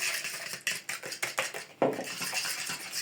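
A spoon clinks and scrapes against a bowl in quick, irregular strokes while lightly stirring cookie batter, close and fairly loud, with no voices.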